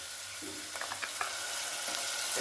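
Tomato puree cooking in a pan for mushroom masala gives a soft, steady sizzle with faint stirring scrapes and light clinks, quiet and close throughout with no talking.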